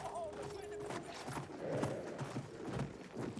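Horse hooves clip-clop in the Battlefield 1 video game, a quick rhythmic patter under distant battle noise and someone speaking over it.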